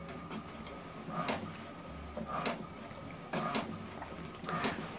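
An HP DeskJet printer prints an alignment page, its print head sweeping back and forth in four regular whirring passes over a steady mechanical hum, close and moderately loud.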